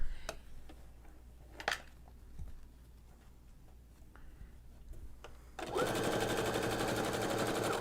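A sewing machine stitches with a tape stitching foot. A few scattered clicks and taps come first, then the motor starts up and runs in a steady, close, rapid mechanical whir until the end.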